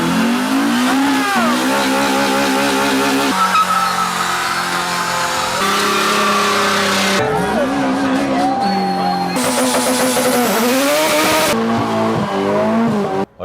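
Cars doing burnouts in a burnout pit, engines screaming at high revs with wailing tire squeal, the pitch rising and falling in repeated surges, loud, close and continuous.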